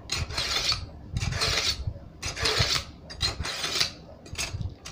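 A knife blade is drawn through a Bavarian Edge sharpener in a series of rasping, scraping strokes, each pull a close, gritty grind separated by short pauses, with no talking.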